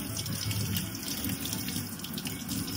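Figs being rinsed under a running kitchen tap, a steady close hiss of flowing water splashing into a sink, continuous and unbroken, with no talking.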